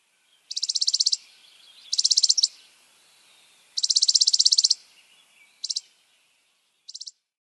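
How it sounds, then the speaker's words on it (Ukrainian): Songbird singing in short bright bursts of rapid repeated notes, five phrases separated by pauses, clear and close with no other sound behind it. "пташка співає нам свою пісеньку."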